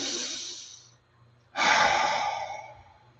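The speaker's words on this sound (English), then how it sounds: "Nice deep breath." A deep breath is taken close to the microphone: a long airy exhale, a short pause, then a strong inhale that gradually trails off, with no words spoken.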